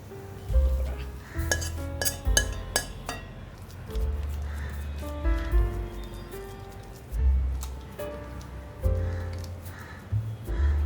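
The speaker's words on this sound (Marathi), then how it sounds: "मिश्रण आपण या पेपर लावलेल्या डिशमध्ये काढून घेऊया" A cooked sweet carrot mixture is scraped out of a pan into a paper-lined dish, with repeated utensil scrapes, clinks and soft squishy thuds coming close and fairly loud in bursts.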